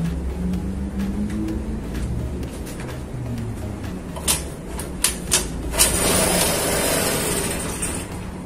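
A restored Suzuki Choi Nori 50cc two-stroke mini motorbike engine idling close by with a low, steady rumble, joined later by a few sharp mechanical clicks and a rising hiss.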